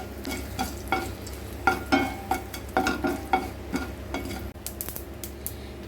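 Three dried red chillies, halved, frying in hot oil for a spinach-style pulicha keerai thokku, giving a low steady sizzle broken by rhythmic spoon scrapes and clinks against the pan, close by and without speech.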